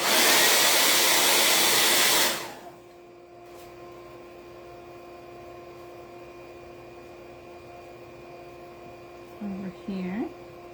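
A hair dryer roars loudly for about two seconds while drying a patriotic star craft for a fireplace mantel, then cuts off abruptly, leaving a quiet room with a brief voice near the end.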